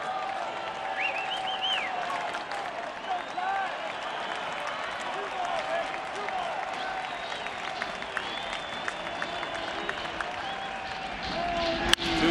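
A packed baseball stadium crowd at an NLDS playoff game between the Chicago Cubs and San Francisco Giants roars, cheers and applauds steadily for about twelve seconds, with no break in the dense, loud noise.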